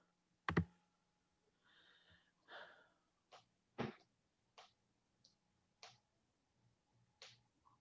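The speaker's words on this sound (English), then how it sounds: "So I can click the right button." Faint, sparse mouse clicks in a quiet room during an online lake board meeting, spaced irregularly with one sharper click near the start.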